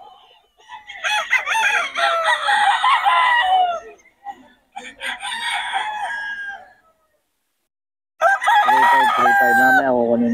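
Roosters crow loudly and repeatedly at a chicken market in Bocaue, long drawn-out calls following one another from close by, with a clear pause before a final crow.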